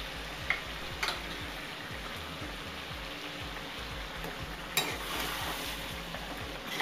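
Chicken and spices sizzle in a pan while being stirred, with a soft continuous frying hiss and occasional scraping clinks of the utensil.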